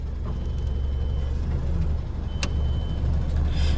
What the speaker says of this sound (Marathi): आता आम्ही चाललोय गाडी घेऊन बाहेर काट्यावर